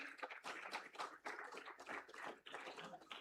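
Audience applause at a school proficiency award ceremony honouring award winners, a short burst of clapping from a small group, fairly faint.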